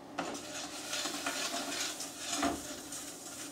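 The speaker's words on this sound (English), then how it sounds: "you need to stir them consistently so they all have an even color" Bread croutons being stirred in butter in a pan, a soft continuous scraping and shuffling with faint sizzle and a few light clinks from the utensil, quiet and close, no talking.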